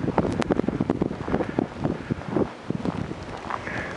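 Strong wind roars and buffets the microphone outdoors in an open area of a Chicago blizzard, loud gusty rumble rising and falling continuously, with no talk over it.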